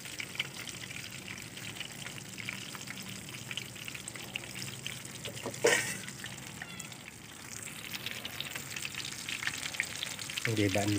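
Large whole fish, about 2.7 kilos, frying in hot oil, a steady crackling sizzle throughout with a brief louder burst midway and a rising spatter near the end, no voices over it.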